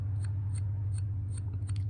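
A finger scraping along the freshly sharpened edge of a SOG Survival Hawk military tomahawk, faint crisp scratches repeating about every quarter second over a steady low hum of outdoor traffic.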